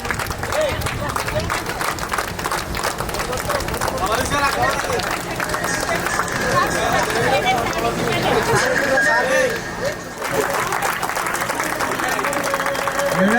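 Sustained clapping from a gathered crowd at an SSC batch alumni reunion in Bhanur, dense and continuous, with chatter and voices mixed underneath and a brief dip near the end.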